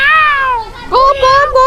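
A person imitates a cat's meow with a voice, giving a long drawn-out mew followed by two shorter rising meows, close and loud.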